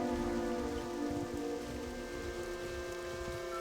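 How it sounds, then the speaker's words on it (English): Steady rain falling in World of Warcraft Classic, a constant dense patter with a faint tonal music bed beneath, no voices. "I feel like every zone we've quested in recently has been rainy."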